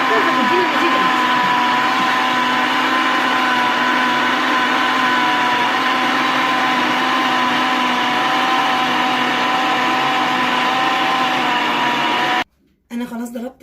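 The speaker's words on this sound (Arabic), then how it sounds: "انا خلاص ضربت الخليط كله في الخلاط تمام، واتجانس كويس جدا" An electric blender beating cake batter whirs loudly and steadily with a constant motor hum for several seconds, then cuts off abruptly with a brief restart.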